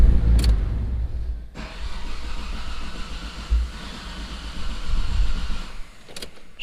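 A Mitsubishi 3000GT at operating temperature is warm-started: a brief noise, then the engine catches around a second and a half in and settles into a steady, close idle with a few louder bumps and no talking.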